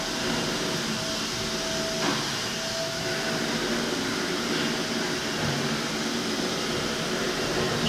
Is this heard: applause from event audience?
no